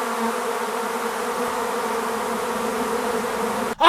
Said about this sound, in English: Alright, I got the fucking bees.